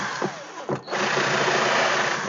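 A power drill whirs up to speed while widening holes during a Sinnis motorcycle build, starting with brief stuttering bursts before settling into a loud, steady high-pitched whine close by.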